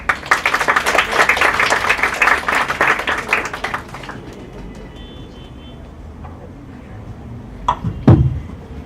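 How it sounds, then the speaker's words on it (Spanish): An audience in a university law faculty auditorium bursts into sustained applause welcoming a speaker, dense clapping for about four seconds before fading into room murmur and a few scattered knocks. "Recibámoslo con fuertes aplausos"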